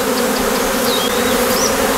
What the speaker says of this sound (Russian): Пчела это спокойная.